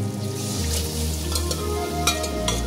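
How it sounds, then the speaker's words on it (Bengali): Pressure-cooked mutton with yogurt being stir-fried for kosha in a wok, a soft, steady sizzle with occasional spatters and light stirring sounds. "এবার এটা আমি পুরো ভালো করে মাটনটাকে ভালো করে কষে নেব"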